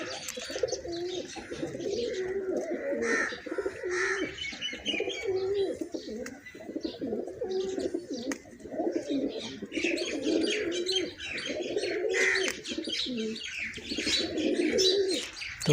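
Pigeons coo during feather clipping, a low, rolling chorus of repeated coos nearby mixed with occasional higher chirps, steady throughout without talk.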